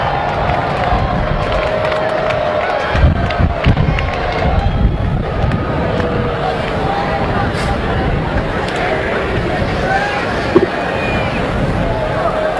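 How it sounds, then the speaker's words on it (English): A large graduation crowd cheers and claps for their families and friends, a dense sustained roar of voices with scattered whoops and sharp clapping bursts throughout. "stand up and wave and cheer your supportive family and friends"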